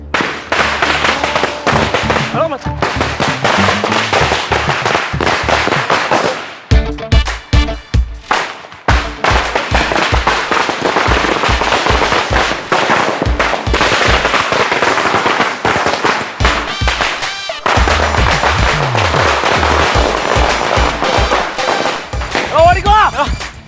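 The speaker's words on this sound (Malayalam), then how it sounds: "രണ്ട് പടക്കം പൊട്ടിച്ചപ്പോഴത്തേക്ക് ഓടിക്കളഞ്ഞു" Firecrackers burst in long rapid strings of sharp loud cracks, with brief pauses between volleys and voices faintly mixed in.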